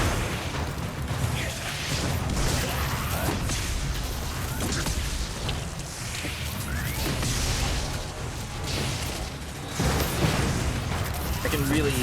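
Smart Bomb blasts from the Wolf character go off in Destiny Rising during a strike, loud crashing explosions and mechanical clatter layered over constant combat noise, with a heavier burst near ten seconds.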